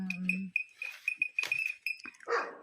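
Goats on a farm bleating at feeding time, a few calls in close succession amid some background voice and rustling, with a dog-like bark mixed in.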